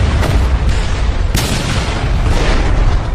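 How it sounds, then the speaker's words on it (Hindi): A huge explosion erupts as an airplane wing slams into the ground in a movie scene, a sustained loud roar of rumbling blasts and crackling bursts, with no talk over it. "और एक भयानक विस्फोट हो गया।"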